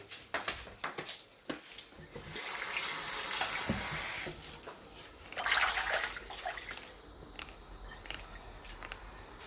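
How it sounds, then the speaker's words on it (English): Pimento rinsed under a running kitchen tap for Jamaican pumpkin soup, a steady close hiss of flowing water with brief splashing and handling noises at the start and end. "Then I'll get a bit of pimento, then I'll wash these again."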